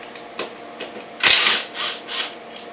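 Ratchet loosening a radiator support bracket bolt on a Kawasaki KX125 motocross bike, heard as a few short mechanical clicking bursts at close range, the loudest near the middle, with no talking.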